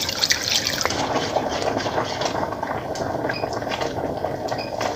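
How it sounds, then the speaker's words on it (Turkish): Milk heats into a béchamel sauce that is stirred constantly, giving a continuous close bubbling, sloshing texture with soft scraping and occasional small pops. "Şimdi kaynayana kadar topaklanma olmaması için kaynayana kadar sürekli karıştıracağım."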